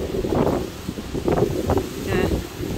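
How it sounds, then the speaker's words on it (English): Strong gusty wind from Hurricane Ian in North Port buffeting the microphone, a rough roaring rush that swells and dips in gusts, close and loud, with a voice faintly under it. "that wind is literally smacking me"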